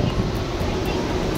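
Inside a moving Mumbai local train, a steady broadband rumble and rattle of the carriage fills the space, constant and moderately loud, with faint hints of voices beneath.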